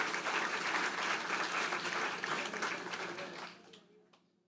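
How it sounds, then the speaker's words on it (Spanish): A church congregation breaks into sustained applause for Jesus Christ at a Sunday service, a dense wash of clapping that holds steady and then fades away into near silence. "¿cuánto dan un aplauso a Jesucristo?"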